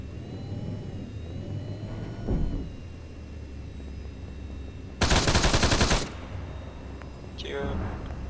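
Gunfire in a video game: a loud burst of rapid automatic shots lasting about a second, with a player's voice talking before and after it.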